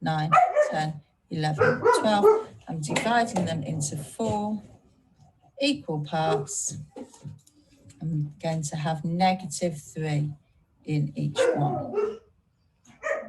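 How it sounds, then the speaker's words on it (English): A dog barks a few times in the background of a home setting while a teacher keeps talking through an online maths lesson, the barks partly masked by the voice. "Apologies for the dog there."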